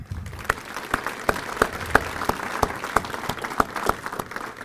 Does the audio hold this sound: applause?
yes